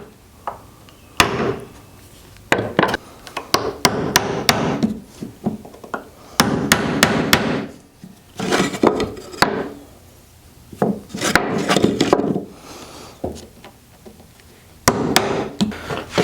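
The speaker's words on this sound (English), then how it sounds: "I'm just driving those out using a hammer and a screw, a large screw" A hammer strikes a large screw to drive nails out of old pallet wood, producing close, loud, irregular bursts of hard woody knocks and clatters separated by brief pauses.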